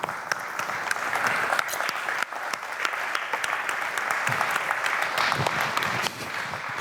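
Audience applause at a festival talk in Slovenia, dense steady clapping from a sizeable crowd that stays loud and even for the whole stretch, with no voices above it.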